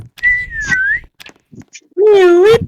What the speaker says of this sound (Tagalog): May sumisipol.